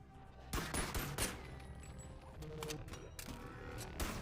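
Bursts of gunfire from the VR game BoneLab, several rapid volleys in close succession with sharp broadband cracks, fairly loud and close, followed by quieter clattering game sounds.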